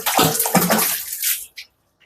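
Raw mangoes for avakaya pickle are washed in water, a close, loud splashing and sloshing that lasts about a second and a half and then stops, with a few faint drips after it.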